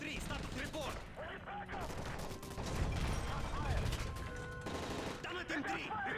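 Automatic gunfire erupts aboard a hijacked plane in Modern Warfare 3, loud rattling bursts mixed with shouted voices and alarm-like tones.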